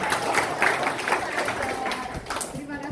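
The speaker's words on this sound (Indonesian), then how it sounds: "coba semua tepuk tangan biar." People at a neighborhood coordination meeting clap their hands, a loose, moderately loud patter of applause from a roomful of attendees, with voices mixed in.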